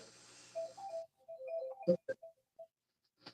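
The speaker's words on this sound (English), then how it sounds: "My wife's phone's ringing." A phone rings with a short electronic ringtone melody of a few quick notes, then brief sharp tones and a final faint blip, fairly quiet against a silent background.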